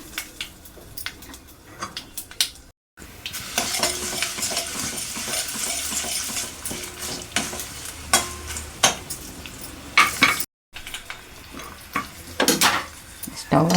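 Dried red chillies and garlic fry in hot oil for a Tamil Nadu-style idli sambar tempering, with a steady close sizzle and spoon scrapes and clinks against the pan. Two brief silent breaks interrupt it.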